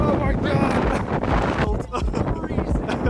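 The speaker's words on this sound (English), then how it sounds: "It's super windy, it's freezing cold." Strong wind buffets the microphone at an outdoor spot, a loud steady roar throughout, with a voice speaking beneath it.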